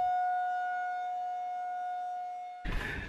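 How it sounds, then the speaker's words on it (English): A steady, droning tornado siren wails at a distance, holding one pitch for several seconds before a burst of close rustling noise cuts in. "Tornado sirens just went off a little bit ago."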